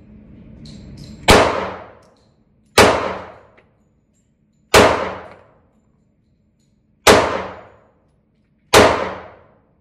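Five sharp gunshots from an FMK 9mm pistol, made in California, firing Blazer Brass ammunition, spaced roughly two seconds apart, each loud and close with a quick decaying ring at an outdoor range.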